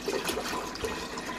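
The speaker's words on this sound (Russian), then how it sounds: "Наливаем воду в кастрюлю." Tap water runs steadily into a saucepan for a soup, a continuous splashing and gurgling pour that stays close and fairly loud throughout, with no voices.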